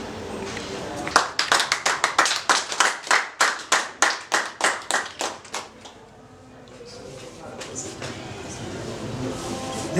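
Audience at a cooperative savings week event clapping in a rhythmic, fast unison beat that slows and fades after a few seconds, followed by quieter scattered room noise.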